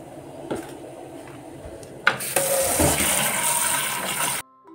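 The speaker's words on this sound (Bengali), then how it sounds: "তো আমি এখন গরম জল দিয়ে ধোবো আগে" Hot water pours and splashes over rice and mung dal being washed in a vessel, starting after a faint clink and running loud and steady for a couple of seconds before cutting off.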